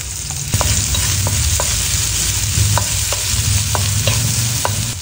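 Garlic and onion sautéing in a pan, a loud, close, continuous sizzle with regular spatula taps and scrapes spaced through it, no speech.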